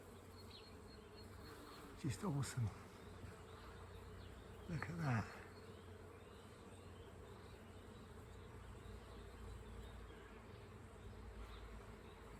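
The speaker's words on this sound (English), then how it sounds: "There's bees everywhere, man." Bees hum steadily among apple blossoms, a soft continuous buzz with a couple of brief louder passes close by and a short spoken remark.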